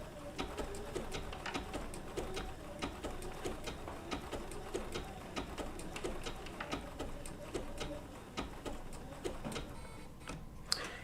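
A Bernina B790 PRO sewing machine stitches wool applique, its needle ticking in a fast, even rhythm, quiet and close, with a few brief pauses.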